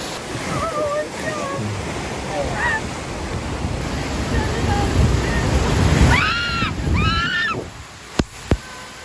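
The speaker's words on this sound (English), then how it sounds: "Next up, we're going on the rapids." Rushing water and wind noise from a rapids ride at Happy Valley Beijing, with continuous splashing surf-like wash, distant shrieks from riders and a couple of sharp knocks at the end.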